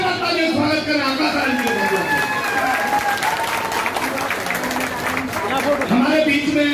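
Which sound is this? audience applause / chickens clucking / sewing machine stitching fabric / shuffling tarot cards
audience applause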